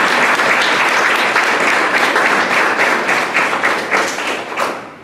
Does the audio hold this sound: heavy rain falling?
no